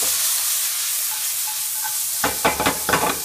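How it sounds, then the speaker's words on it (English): Lamb and balsamic vinegar sizzle steadily in a hot pan, with a loud constant hiss, then a spoon stirs the meat in several quick scraping strokes near the end. "Stir it round, in goes a little bit of chili, sweet chili sauce that will make it even more easy to caramelise."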